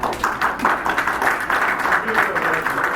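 Scattered audience clapping at a township board of trustees work session, steady and moderately loud, with voices talking over it throughout.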